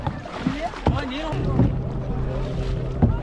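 A small dinghy boat moves across the backwaters of Yagachi Dam near Belur with sloshing, knocking sounds and a low motor-like hum, with wind buffeting the microphone.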